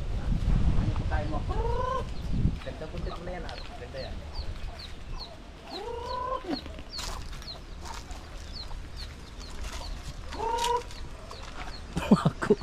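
Black chickens on a rural Philippine farm cluck in several short bursts, near and moderately loud, with faint bird chatter and outdoor rustle around them.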